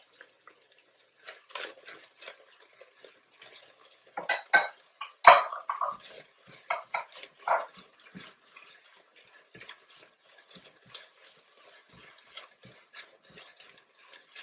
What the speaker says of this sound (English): I'm going to go ahead and add this garlic now.